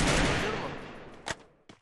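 Bursts of gunfire in a battle royale video game during a live tournament match, a dense rapid fusillade that fades, then two sharp single shots, with no one talking.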